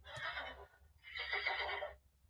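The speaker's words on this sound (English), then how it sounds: "Horses." A horse neighing from a button on a children's farm sound book, two loud whinnying bursts in quick succession with no talk over them.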